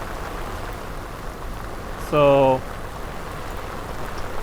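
Rain falls steadily during a fishing trip, a soft even patter and hiss throughout, with someone speaking briefly over it partway through.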